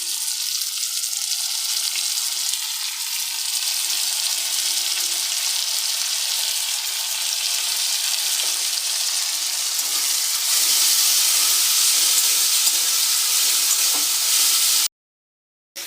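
Tomatoes and green chillies sizzle steadily in a hot pan, a continuous loud frying hiss that grows a bit brighter partway through and then cuts off abruptly near the end.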